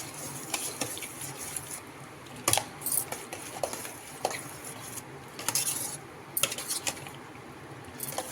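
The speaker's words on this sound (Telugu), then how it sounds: "ఇప్పుడు అన్నీ మంచిగా మిక్స్ చేసేసుకుంటాం." A spoon stirs fruit custard salad in a bowl, with soft wet scraping broken by repeated light clinks and taps against the dish, fairly close and moderately quiet.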